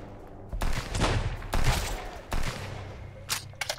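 Rifle shots boom in a Sunkenland raid on base walls, a few heavy separate blasts spaced about a second apart with decaying tails, followed by quieter sharp clicks and rattles.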